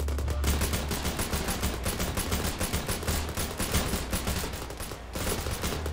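Rapid rifle and machine-gun fire crackles without pause in the ArmA 3 military game, dense bursts of shots overlapping into a loud, continuous fusillade with no speech.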